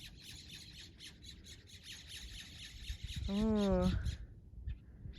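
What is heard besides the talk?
blue birds calling on a hiking trail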